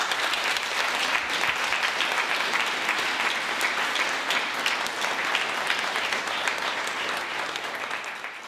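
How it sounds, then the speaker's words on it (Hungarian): Sustained applause from the audience at a charity evening held in an event hall, dense and steady throughout, fading slightly at the end. "Én mindenek előtt szeretnék Norbertnek egy nagy-nagy tapsot kérni"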